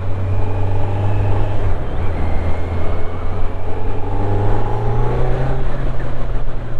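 A Kawasaki Z900 motorcycle engine holds a steady drone in third gear around 3000 rpm at about 50 km/h, a continuous close engine hum with a slight rise in pitch toward the end.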